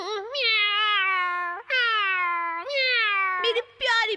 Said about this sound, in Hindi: कितनी प्यारी बिल्लियां हैं।